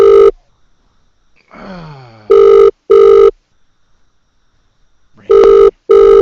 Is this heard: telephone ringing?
yes